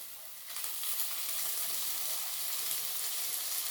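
Boneless fish pieces for fish balls frying in a pan, a steady broad sizzle that swells in after a brief quieter start and holds loud and continuous, with no talk.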